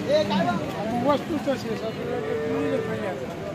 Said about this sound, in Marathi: गिर जातीची गाय आहे. गिर प्युअर गिर.